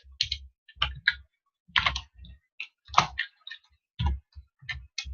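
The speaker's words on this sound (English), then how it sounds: "Oh, we'll type it in quick." Keys on a computer keyboard clatter in quick, uneven bursts with short pauses between, close and crisp, as an expression is typed into a graphing calculator.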